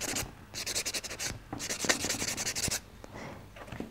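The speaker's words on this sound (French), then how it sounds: "Donc là je passe mon bloc ponce donc sur tout l'ongle" A buffer block sands across a fingernail surface in quick, close, soft rasping strokes, coming in rhythmic bursts with brief pauses between them, alone without talk.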